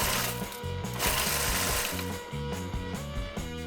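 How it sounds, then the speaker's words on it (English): Food processor chopping coarsely cut chilies for a chili sauce, a loud close motor with rattling, pulsing choppy rhythm as pieces are thrown around the bowl. "let the food processor do the rest of"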